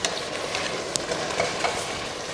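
Cooled cooked rice is stirred into a tamarind potato masala in a pan, giving a steady scraping, stirring rustle with a light sizzle underneath, close and moderately quiet with no talking.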